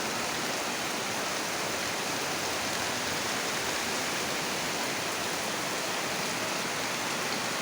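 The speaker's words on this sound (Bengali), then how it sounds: "এই যে বৃষ্টিটা পড়ে না, ঝুমঝুম ঝুমঝুমে বৃষ্টির শব্দটা দেখেন" Heavy late-afternoon rain pours down steadily in a broad, even hiss, a continuous dense roar of falling water with no pauses or voices.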